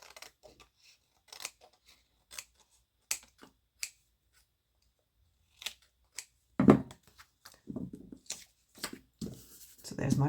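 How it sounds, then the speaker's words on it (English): Scissors snip overhanging paper off a handmade card panel, making sparse, sharp clicks and crisp cuts scattered across the stretch, with a denser run of snips toward the end. The sound is close, with no voices. "turn it over and cut off anything that's overhanging"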